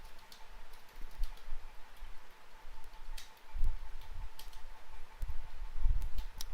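Keys clatter in bursts on a computer keyboard during an Oracle SQL lesson, irregular clicks and taps close by with soft background hum and no voices.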